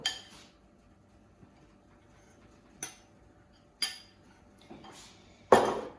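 A spoon clinks sharply against a bowl while chocolate, courgette and hazelnut cake batter with flour is mixed, giving about five separate knocks spaced irregularly with quiet pauses between.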